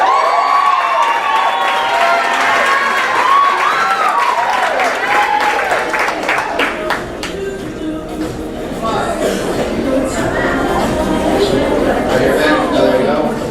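Banquet crowd claps and cheers for an award winner, steady applause mixed with shouts and chatter, fairly loud and close, with voices heard throughout.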